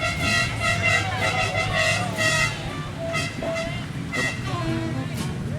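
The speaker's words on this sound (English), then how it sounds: "Glad the horn works." Horn of a 1973 Ferrari Daytona Spider at the Pebble Beach Concours d'Elegance, sounding in several fairly loud honks over steady outdoor crowd noise and voices.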